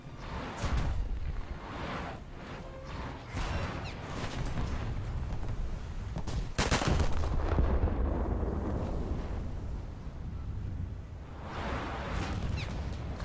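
Heavy warship guns fire in a naval battle video game, several deep booming salvos rolling into sustained low rumble and crackle, loud and close with no talk over them.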